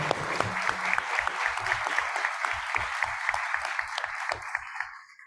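An audience at a panel discussion on transparency and data protection claps for a magistrate, with distinct sharp claps in a quick, fairly even rhythm that thin out and fade toward the end.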